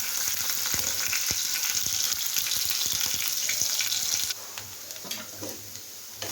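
Mustard seeds, cumin and green chillies sizzle loudly in hot oil for a tempering, a steady close hiss with small pops and spatters, easing down slightly partway through.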